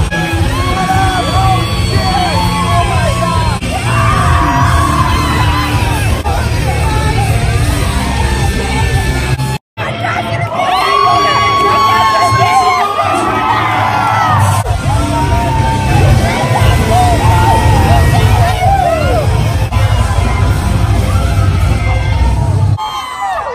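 A dense crowd of fans yells, whoops and cheers continuously and loudly at an Escape the Fate party, with voices shouting over the din and one brief break.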